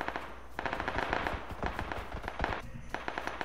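Rapid bursts of gunfire in the battle royale game PUBG, sharp repeated cracks in quick succession with short pauses, fairly loud and close over a steady game background.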